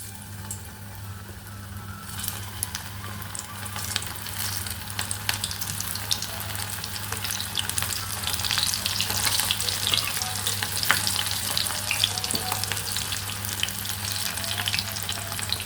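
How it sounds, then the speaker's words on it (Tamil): Cauliflower 65 pieces coated in masala deep-frying in hot oil, a steady dense crackling sizzle that swells louder midway and holds close and continuous with no voices, a low hum underneath. "இப்போ எண்ணெயை காய வச்சு ஒன்று ஒன்றா போட்டு எடுத்துடலாம்"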